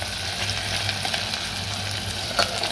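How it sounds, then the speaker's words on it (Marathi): Onions fry in a pan toward golden brown for an Aagri-style fish kalvan, producing a loud, steady, close sizzle with faint stirring ticks throughout. "कांदा त्याला गोल्डन ब्राऊन करायचं"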